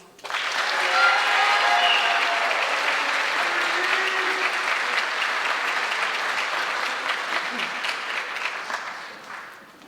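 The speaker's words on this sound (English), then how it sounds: "Give them a round of applause." Audience applause fills a senior awards ceremony for the Class of 2025, a dense, sustained wash of clapping that swells quickly, holds steady for several seconds and tapers near the end, with no talking over it.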